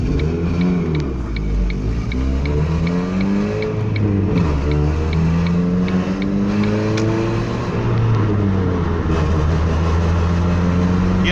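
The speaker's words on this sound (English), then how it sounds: "you can hear the sound of the exhaust and the misfire that's going to happen as soon as I set off" A car engine with a misfire idles and revs with a rough, uneven exhaust note, stumbling intermittently as it pulls away; loud and close, no talking.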